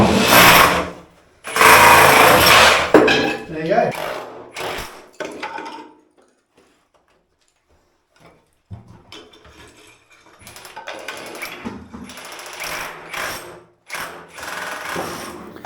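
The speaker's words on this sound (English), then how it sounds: "We're just using that impact drill. It's not on spin, it's just on the hammer setting." Loud bursts of a buzzing, rattling impact drill on hammer setting, without spin, chipping off bathroom wall tiles come in pulses, then a quiet stretch, then steadier rattling resumes; a brief voice speaks.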